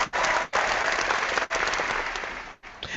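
Audience at a Microsoft Xbox One announcement event bursts into applause and cheering in several waves, broken by brief dips, heard faintly and at a distance.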